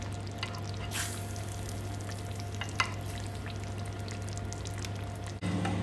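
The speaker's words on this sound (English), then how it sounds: "Let's just baste it again with all those lovely juices." Lamb curry in a roasting dish being basted with its own cooking juices: a steady, close bubbling sizzle with soft spoon splashes and a low hum underneath, ending in a brief clunk.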